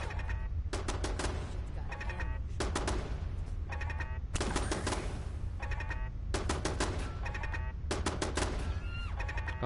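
Weapon gunfire in Fallout 4 sounds as repeated rapid bursts, each volley a second or so long, separated by short gaps over a constant low background drone, loud and close with no talking.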